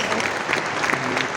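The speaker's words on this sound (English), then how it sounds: "Please, applaud, absolutely." Audience applause in a lecture hall fills the whole short stretch, a dense, steady clatter of many hands clapping at once.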